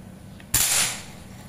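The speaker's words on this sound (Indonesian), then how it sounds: "Tembakan kedua." One crisp PCP air rifle shot, a short snapping crack with a fading hiss, after a faint click, otherwise quiet.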